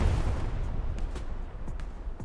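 Artillery fire in a World War II battle video game sounds as a run of deep, muffled booms and thuds. Several blasts fall at irregular intervals over a low, rumbling battlefield background.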